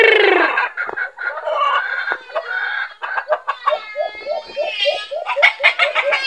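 A hen bred from a labuyo crossbreed clucks close by in short repeated bursts, with a run of rhythmic, higher squawking notes toward the end, set against a loud cry at the start.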